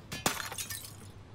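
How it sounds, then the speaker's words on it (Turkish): A glass window shatters in the video game Life is Strange, a sharp close crash followed by tinkling shards scattering and fading over about a second, with no voices. "Camı kırdı."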